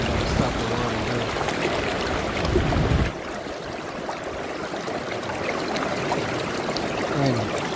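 Water rushes and churns through a Green Mountain Gold trap sluice at an East Fork stream, a steady loud wash that drops sharply partway through as the flow is cut, leaving a quieter trickle.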